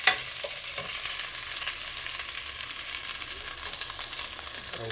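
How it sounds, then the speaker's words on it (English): Half an onion frying in a pot and being stirred with a spatula, a steady broadband sizzle with faint scraping strokes throughout, close and moderately loud, no voices. "You'll be putting half the onion in the pot."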